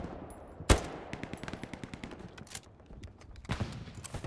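Gunfire in the World War II shooter game Hell Let Loose: a sharp close shot followed by a rapid rattling run of suppressive fire and another burst near the end, somewhat quiet and with no voices.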